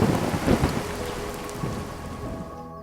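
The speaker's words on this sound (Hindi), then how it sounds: "दोपहर होते ही तेज बारिश शुरू हो गई।" Heavy rain pours steadily in a broad, continuous hiss, with a low thunder-like rumble underneath that is strongest at the start and eases slightly toward the end.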